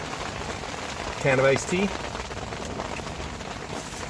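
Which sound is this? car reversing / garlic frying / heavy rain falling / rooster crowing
heavy rain falling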